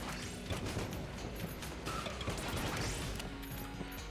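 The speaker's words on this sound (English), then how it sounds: "Just an explosion." An explosion in the video game Enter the Gungeon, a dense burst of crashing, clanking game noise with mechanical rattles that stays loud and steady across several seconds without any talk.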